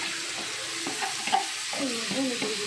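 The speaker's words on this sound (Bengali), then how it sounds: "এবার চালটা দিয়ে দেবো, মশলা মাখানো ঝুরঝুরে চালটা" Spice-coated rice tipped into a hot pan and stirred, giving a steady close sizzle with scraping stir strokes and a few louder clatters, no voices.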